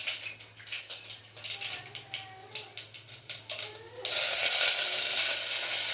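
Curry leaves being rinsed in water for a masoor dal tempering: a run of short, close splashy ticks and crackles, then a steady, louder wash of running water that continues to the end.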